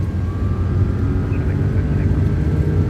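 Airbus A330-200 jet engines spooling toward takeoff thrust in a flight simulator, a loud, steady roar with a rising whine, continuous with no voices.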